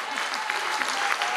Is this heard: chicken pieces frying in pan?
no